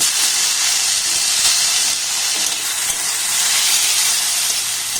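Chopped tomato goes into a pan of onion, garlic and grated ginger frying in oil, raising a loud, steady hiss and sizzle that holds evenly throughout with no voices.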